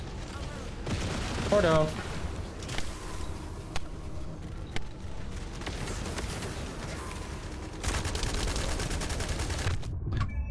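Gunfire in the video game The First Descendant, with repeated bursts and sharp shots spread across the stretch alongside other game noise, and someone talking briefly between them.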